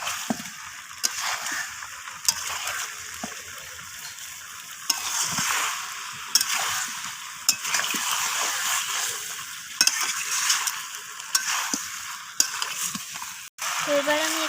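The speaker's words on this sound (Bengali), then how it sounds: "এখন আমি এখানে দিয়ে দিলাম ভেজে রাখা আলু আর পেঁপেগুলো। তো আবারও সমস্ত কিছু কষিয়ে নিচ্ছি।" Mutton is stir-fried in a pan with fried potatoes and papaya: a continuous sizzle under repeated scraping and stirring strokes of a spatula, close and moderately loud.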